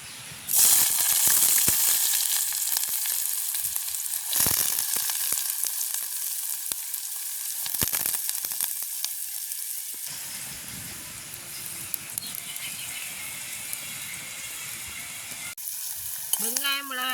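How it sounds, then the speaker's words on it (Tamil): Chopped onion and chili frying in hot oil in a village kitchen, a loud, steady sizzle with sharp crackles and occasional stirring scrapes, the hiss easing slightly partway through. "வெட்டி வச்சுருக்கிற வெங்காயத்தையும் மிளகாயம் பொரிச்செடுக்கணும் இப்போ நாங்கள் பொரிப்போம்"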